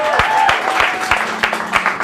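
A crowd at the close of an improv comedy show in Phoenix claps loudly and continuously, a thick wash of applause with some louder individual claps punctuating it.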